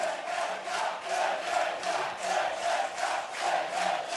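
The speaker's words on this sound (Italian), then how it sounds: "Si sta scaldando la tifoseria dell'Unione Venezia" Unione Venezia football supporters chanting in a stadium during a Lega Pro match against Vicenza, a dense crowd roar pulsing in a steady rhythmic chant, loud and continuous, with no commentary on top.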